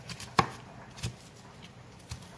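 A knife chops onions on a cutting board with three separate, unevenly spaced taps, close but fairly quiet, with no talking.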